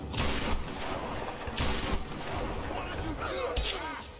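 Gunfire in the Tomb Raider Game of the Year Edition, loud sharp shots and bursts over game effects and music while a player talks throughout.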